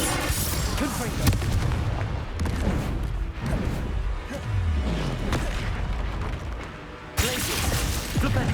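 Confringo spell blasts in the video game Hogwarts Legacy, heavy booming impacts and crashes amid dense game combat effects, loud and continuous throughout.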